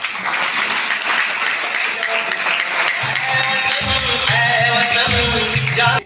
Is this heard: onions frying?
no